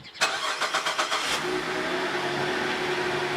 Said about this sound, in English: And the car just starts up